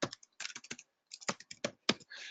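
Fingers typing on a computer keyboard in short bursts of crisp clicks, close and fairly quiet, with brief pauses between runs of keystrokes and no speech.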